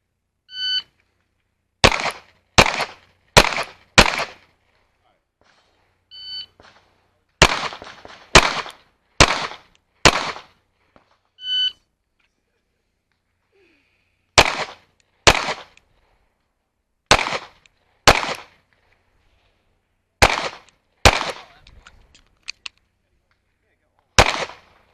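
Pistol shots fired on an IDPA shooting stage at a South Carolina state match, backup-gun division: sharp, loud cracks in quick strings of three to five, separated by short pauses, with brief timer beeps at the start.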